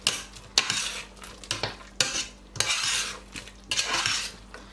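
A spoon stirs a one-pot beef fry with tomato sauce, scraping and clanking against the pot in repeated strokes, each followed by a soft sizzle underneath; close and fairly quiet, with no voices.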